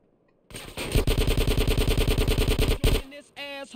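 Weapon fire in GTA San Andreas: a loud, rapid automatic burst of evenly spaced shots lasting about two seconds, followed by a short pause and a brief ringing mechanical tail, close and dominant.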